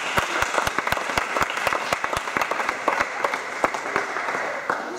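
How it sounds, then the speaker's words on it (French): An audience at a basketball coaching session applauds, with clear individual hand claps standing out in an irregular rhythm over a softer wash of clapping throughout. "Merci à vous pour les applaudissements."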